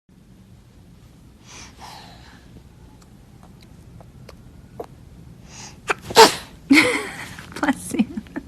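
A single sharp sneeze bursts out near the end after quiet breathing and a gasp, with a baby nearby and people talking softly around it.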